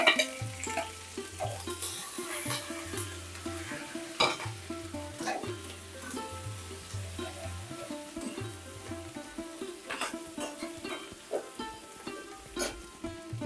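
Grated ginger, six grated garlic cloves and four finely chopped green chillies hitting sizzling mustard seeds in oil for egg masala, heard as a steady close sizzle with repeated stirring scrapes and knocks over a low tonal hum.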